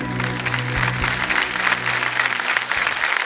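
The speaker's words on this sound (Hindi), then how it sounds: "तालियां बजाएं इनके लिए।" A studio audience on the quiz show Kaun Banega Crorepati applauds a contestant who quits the game, a steady full burst of clapping throughout with a low musical hum underneath.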